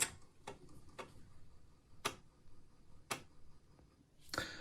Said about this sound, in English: That is the sound of my Amiga saying no,